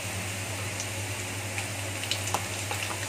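Minced beef frying with garlic in a pan makes a steady, even sizzle with light crackles and pops, constant and close, with no talk.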